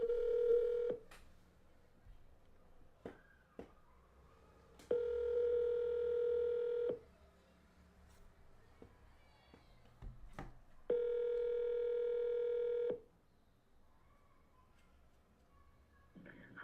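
An outgoing telephone call rings out in three long, steady, buzzing tones, each about two seconds, separated by quiet gaps with faint clicks and ticks, heard clearly through the line.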